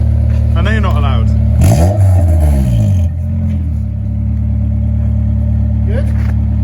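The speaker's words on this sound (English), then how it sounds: "you haven't put your foot on the throttle yet, Ed." A Honda S2000 idling with a decat pipe fitted, a loud steady engine drone with a brief rise in pitch, while people talk over it nearby.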